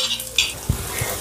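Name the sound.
chopped onion stirred into frying pan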